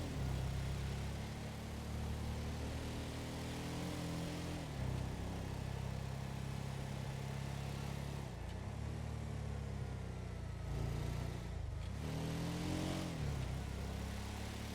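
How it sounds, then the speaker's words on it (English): A modded dune buggy towing a trailer loaded with weed drives in GTA, its engine droning steadily and loudly throughout, rising and falling in pitch as it revs and shifts, with no talking. "This is a dune buggy with a trailer filled with a bunch of weed and the 420 logo on the side."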